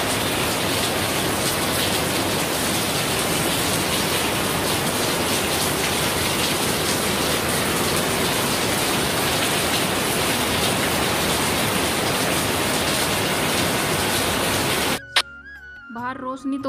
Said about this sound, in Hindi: और साथ में बारिश भी बहुत तेज़ आ गई थी, हल्की फुल्की नहीं, बहुत तेज़ बारिश आ गई थी।